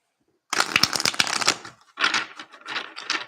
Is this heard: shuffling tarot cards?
yes